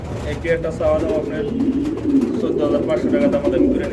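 A pair of blue-barred stretcher pigeons at a breeding setup, cooing repeatedly and close by in soft throaty rolls, with people talking over them throughout.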